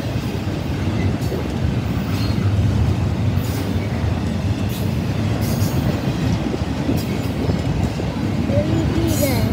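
Long Norfolk Southern intermodal freight train led by two Union Pacific locomotives rolls past close by, a steady loud rumble of wheels and cars throughout with faint squeal.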